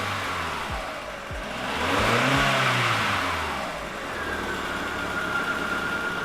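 Warm car engine idling then revving up and easing back down, a rising and falling whine close by, with the idle settling into a steady hum afterward.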